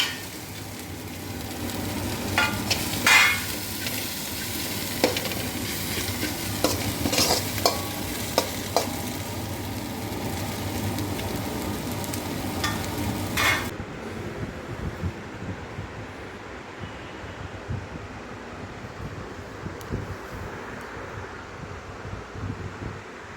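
Goat brain frying in a pan, a dense close sizzle with frequent scraping stirs for about fourteen seconds, after which the sound drops to a quieter, muffled sizzle; no one speaks.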